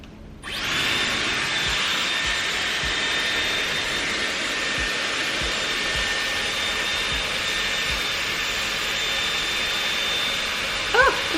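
Dyson Airwrap blowing hot air while drying long hair: a loud, steady, close-up whooshing hum starts abruptly and runs continuously with a faint high whine, with no voices and a small click near the end.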